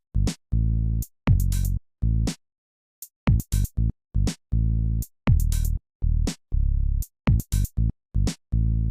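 Bass synth notes from a music software plugin play alongside programmed drums, a steady pattern of short, punchy deep tones with crisp hits between them, loud and close with no talking.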